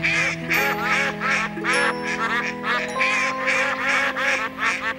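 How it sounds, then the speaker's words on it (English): A flock of domestic ducks, including Barbary, Danish and Golden Cascade breeds, quacking in repeated loud bursts close by, several birds calling over one another in an uneven rhythm. "Real ducks."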